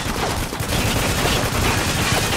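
Heavy .50 cal machine gun fire in the video game Spec Ops: The Line roars as a dense, continuous barrage with no pauses, loud and close.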